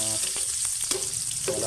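Food sizzles and fries steadily in a hot pan for a Filipino viand, with a few brief clicks of stirring breaking through the constant crackle.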